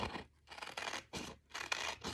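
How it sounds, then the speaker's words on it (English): Scissors snip through paper while a heart shape is cut out, giving repeated close, crisp cutting strokes in short bursts with brief pauses between them, heard alone. "From here, I'm going to cut it out with my scissors"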